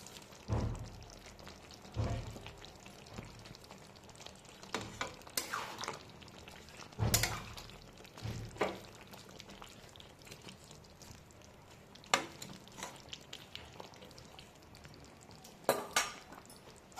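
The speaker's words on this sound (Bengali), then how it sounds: "এই পর্যায়ে দিয়ে দেবো ভেজে রাখা চিংড়ি মাছগুলো" Fried prawns tipped into a pot of cooked potatoes and stirred, with faint scattered clinks and scrapes of a utensil against the pot and a low background hiss, quiet and sparse.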